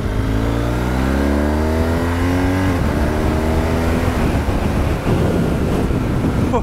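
A BMW R1200 GS Adventure motorcycle engine on the move, revving up through the gears with a rising, falling drone and shifts between them, loud and close beneath heavy wind rush.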